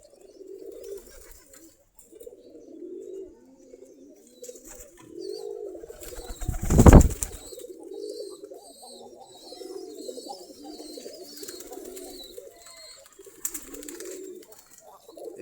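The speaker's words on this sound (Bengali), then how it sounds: "সবগুলাই দেশি গিরিবাজ কবুতর, দেশি জাতের," Desi Giribaj pigeons cooing in soft, repeated low rolling phrases throughout, with a short burst of wing flapping midway and faint chirps in the background.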